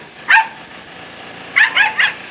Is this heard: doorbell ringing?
no